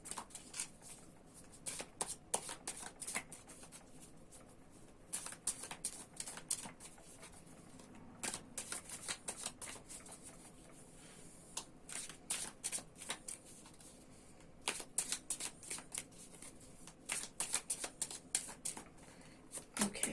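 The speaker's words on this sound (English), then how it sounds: "Let's continue to shuffle." Tarot cards are shuffled in repeated quick bursts of riffling and flicking, close and soft, with brief pauses between rounds.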